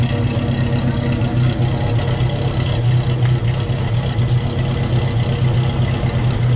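A Seat 131 car engine, a 1970s saloon, idles steadily and loudly close by, a constant low rumble with a faint knocking texture running unbroken throughout.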